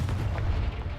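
A spell blast explodes in a video game, a single deep booming burst with low rumble lasting about a second.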